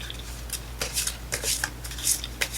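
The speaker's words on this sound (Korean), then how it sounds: "카드 다 꺼내서 다 봅시다." Tarot cards drawn from a deck and shuffled, giving soft papery riffles and flicks in irregular bursts, close and fairly quiet with no talk.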